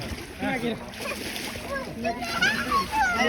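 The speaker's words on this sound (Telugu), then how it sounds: "అన్న వాళ్ళు ఎట్లా కొడుతున్నారు చూడు, మంచి ఈత కొడుతుంది" A child splashing water while swimming in a pool, with irregular close splashes and sloshes under talk and a voice.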